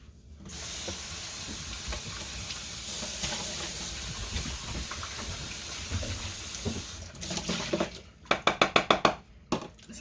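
Water runs steadily into a small plastic bucket being rinsed out after mixing lye for cold process soap, a constant hissing rush that ends with a few sharp sloshes and knocks near the close.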